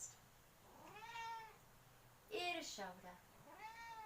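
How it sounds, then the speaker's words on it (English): A cat meows several times, drawn-out rising and falling cries close to the microphone. They alternate with a calm voice giving exercise instructions during an indoor Pilates session. "now I've got a cat joining me."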